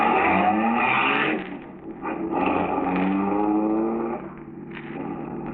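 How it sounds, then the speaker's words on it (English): A stolen car starts and pulls away as a radio drama sound effect, its engine loud and close and rising and falling in pitch over several seconds, with no voices. "Then, Morolla in the second car, the stolen car, starts."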